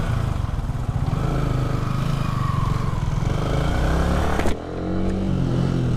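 A Yamaha R15 V3 BS4 motorcycle is ridden with a loud, steady engine drone close by. The engine note dips briefly near the end, then carries on.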